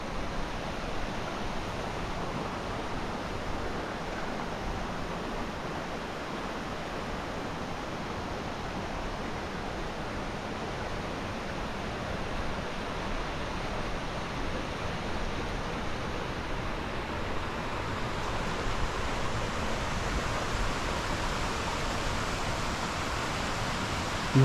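A constant rushing roar of falling water, broad and steady throughout, with no voices.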